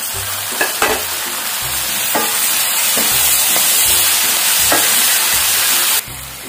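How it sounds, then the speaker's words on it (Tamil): Tomatoes sautéing in a pan for donne biryani, a steady close sizzle with repeated scraping stirs every second or so, ending in a brief louder burst near the end; no talking. "இப்போ இதை நல்லா நம்ம வதக்கணும்"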